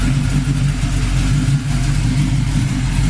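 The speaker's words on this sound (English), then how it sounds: "like I said, the engine runs very smooth" A red 1971 Chevy Chevelle with a 350 V8, high-rise intake and 4-barrel carburetor runs loud and close, holding a smooth, steady idle rumble throughout with no talk over it.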